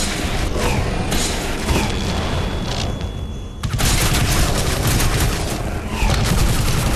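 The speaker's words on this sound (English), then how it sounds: "this is like a self-contained Gatling gun" Rapid, sustained Gatling gun fire in the shooter game Crysis 2, loud and close, with dense bursts running nearly the whole time and a brief lull partway through.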